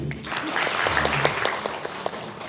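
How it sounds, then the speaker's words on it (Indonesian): Applause from a room of teachers at a Bank Indonesia training session in West Sumatra, a steady clapping crowd that holds at even volume throughout with no pause. "Tepuk tangan dulu ibu"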